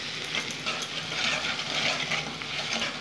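Spiced potatoes for aloo bhurji being stir-fried in a pan, a steady close sizzle with the scrape and clink of a spatula stirring, continuous and fairly loud with no talking.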